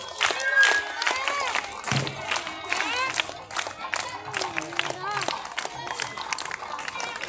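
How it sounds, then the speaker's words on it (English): Applause from an audience at a school ceremony, many hands clapping steadily at a moderate distance, continuing under overlapping speech and a chanted rhythmic count. "So give them big claps."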